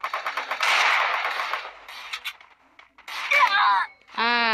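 Rapid automatic gunfire from the Free Fire battle royale video game fills the first half in dense bursts, fading into quieter stretches, with a voice talking and wailing over the later part.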